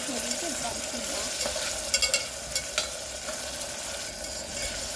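Ingredients for palak kichadi sauté in a pan, a steady close sizzle with a few clinks and scrapes of a spoon stirring.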